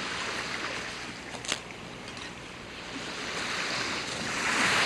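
Sea waves wash and splash against rocky shore on the Greek island of Naxos, a steady broadband surf roar with wind noise and one sharp splash near the middle, the wash swelling louder toward the end.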